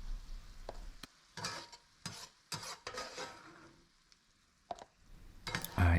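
Ground beef for a chopped cheese sandwich cooks on a griddle. Several quiet bursts of sizzling and spatula scraping come between near-silent pauses, and it ends in a louder scrape, with no talking.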